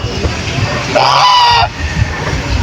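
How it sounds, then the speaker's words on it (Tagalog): Geese honk loudly in a short burst, a harsh nasal call over a busy outdoor background with low rumble. "makakita kayo ng iba't ibang klase ng hayop, katulad na rin gansa"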